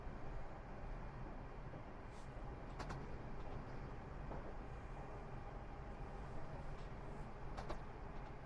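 A train in the London-Bedford line game rumbles along at throttle, a steady low mechanical drone with faint clicks and taps over it, no voices.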